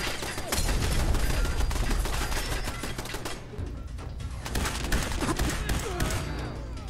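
Rapid bursts of gunfire in the video game Fallout 4 VR, dense crackling shots packed together, loud and close with a brief lull midway before the firing resumes.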